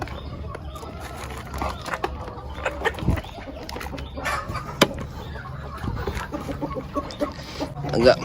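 Free-range village chickens cluck and murmur around the space at feeding time with scattered short calls, alongside clattering movement and steady background noise, no clear talk.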